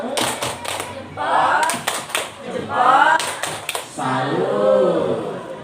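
A group of people performs a rhythmic 'tepuk salut' clapping routine: short bursts of sharp, fast claps alternate with loud chanted voices in between.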